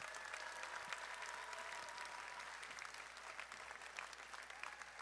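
A high school audience at a class night ceremony gives the graduating seniors a steady, sustained round of applause, dense and even throughout but fairly quiet and distant.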